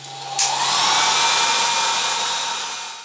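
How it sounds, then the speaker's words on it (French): Hair dryer blowing hot air onto the bed of an UP mini 3D printer before printing, a steady close whooshing roar that starts with a click and runs evenly throughout, fading slightly at the end, no talking. "passer un bon coup de sèche-cheveux dessus pendant 5 minutes"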